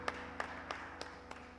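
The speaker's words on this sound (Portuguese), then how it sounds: "Exalte o Senhor com alegria suas palmas para o Senhor Jesus" Church congregation at a Sunday service clapping hands, five evenly spaced claps in a steady beat, faint and distant over a low background hum.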